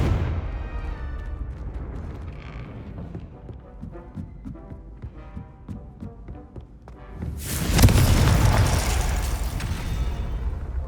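A Confringo blasting spell explodes in Hogwarts Legacy, a loud, dense, roaring blast bursting in partway through and holding strong to the end, after quieter in-game sounds.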